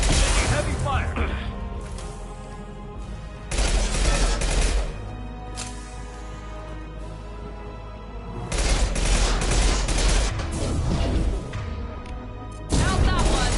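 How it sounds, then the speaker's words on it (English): Heavy gunfire from Mass Effect 2 comes in dense, loud bursts that hammer for a few seconds at a time, separated by quieter stretches of rumbling battle noise. "Heavy fire."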